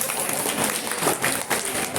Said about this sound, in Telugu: క్లాప్స్ కొట్టండి అబ్బా.